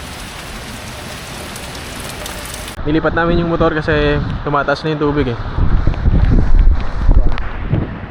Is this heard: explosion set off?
no